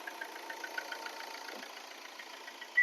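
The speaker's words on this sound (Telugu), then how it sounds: "ఇంజన్ చూడండి ఎంత సైలెంట్గా ఆడుతుంది." A 2013 Hyundai i20 diesel with 135,000 km idles steadily and fairly quietly, a soft, even engine hum heard alone, ending in a brief louder burst.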